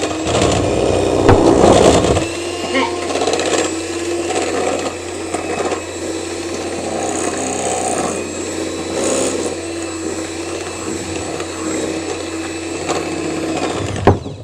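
A mixer whirs steadily as sugar is beaten into eggs for pumpkin bread batter. The motor runs loud and close throughout, with a rougher, harder churning at the start, and no talk.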